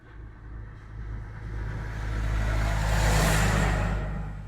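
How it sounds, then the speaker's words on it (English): A big truck passes a stopped car on a Kruger National Park safari road, a low rumbling engine that swells steadily louder as it nears and peaks before easing slightly. "There's a big truck coming."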